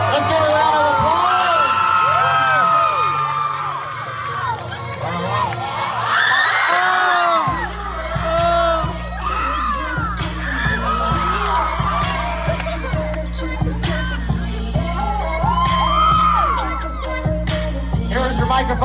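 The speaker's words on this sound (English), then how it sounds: "Let's give her a round of applause." Lively crowd cheering, whoops and shouting for a singer at a graduation-style celebration, mixed with music and a steady beat, loud and continuous with voices calling out over it.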